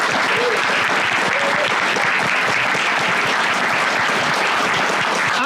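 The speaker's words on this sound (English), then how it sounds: "I want you to give our guests a huge round of applause." A live podcast audience applauds its panel guests at the close of the show, steady dense clapping filling the room for several seconds, loud and continuous with no break.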